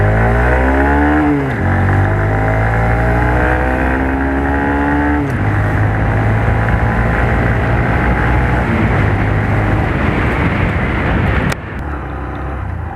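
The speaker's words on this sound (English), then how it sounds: "this is a typical Honda engine" A 2020 Honda SP125 125cc motorcycle engine revs and shifts through gears while riding, droning loudly with rising and falling pitch and some wind rush.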